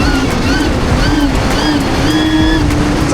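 A mini Ultra Bee electric motorbike, hacked to run faster, whines loudly and constantly nearby, its motor tone rising and falling in repeated short surges over a rushing, windy background.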